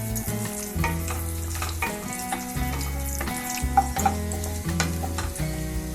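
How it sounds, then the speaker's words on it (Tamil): Cashews and raisins fry in hot ghee for aval payasam, giving a steady close sizzle with frequent scraping stir strokes from a spoon in the pan. "இந்த நெய் நல்லா காஞ்ச உடனே நம்ம எடுத்து வச்சிருக்க முந்திரி திராட்சை வந்து பொரிச்சு எடுத்துக்கலாம்"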